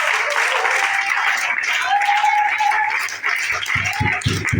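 Church congregation applauding and cheering during a French-language sermon, a dense steady wash of clapping and crowd noise throughout, with a few louder low thumps near the end.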